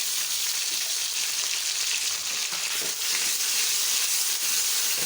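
Steady, bright sizzling of garlic, ginger and green chili paste frying in hot oil, a continuous crackling hiss with small pops, no voices.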